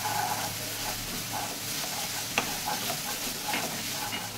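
Ginger-garlic paste sizzles in a pan with a broad, steady hiss of frying and occasional faint stirring scrapes and one brief clink, close and even in level, no voices.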